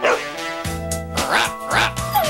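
Dog barking in a TV commercial, several bright yips and barks in quick succession over a music bed, close and loud.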